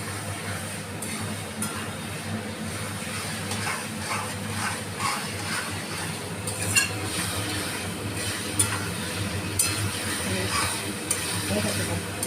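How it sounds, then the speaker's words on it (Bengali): Prawn chorchori stirred in a pan gives a soft sizzle with scraping spoon strokes and occasional clicks, fairly quiet, with a faint voice now and then in the background. "সুন্দর করে নেড়ে নেব।"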